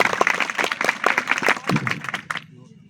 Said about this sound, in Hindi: तालियां वीरेंद्र के लिए।